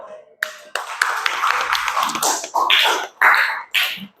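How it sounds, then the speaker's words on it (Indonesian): A group audience claps hands together after a classroom group presentation, a dense burst of sharp taps with brief pauses between waves, fairly close and moderately loud. "Tepuk tangan dulu."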